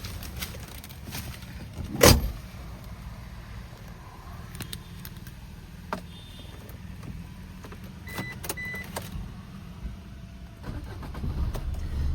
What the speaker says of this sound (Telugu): వెహికల్లో ఇంజన్ సెల్ఫ్ స్టార్టింగ్ అయితే బ్రహ్మాండంగా ఉంది సార్